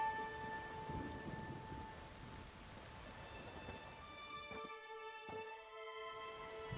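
Rain falls steadily in The Witcher 3, a soft continuous hiss alongside sustained musical tones, with a couple of brief sharp bursts near the end.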